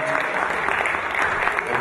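Steady, dense applause from an open-mic crowd in Manchester's Zion Centre, continuous clapping with no breaks and some crowd noise underneath.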